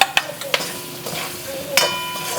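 Mustard seeds, cumin and urad dal with curry leaves tempering in hot oil, a soft sizzle broken by sharp pops and spatters, close and fairly quiet.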